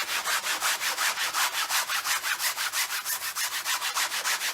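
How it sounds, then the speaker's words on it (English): Rhythmic scratchy sanding strokes, a sanding block rubbed back and forth over a canvas surface at a steady brisk pace, close up with no talking. "You want to sand the surface of that canvas."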